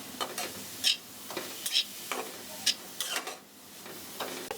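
Shredded cabbage stir-frying in a lightly salted pan, a steady sizzle broken by repeated scraping stirs of a spatula at a loose, uneven rhythm, close and fairly quiet with no talking.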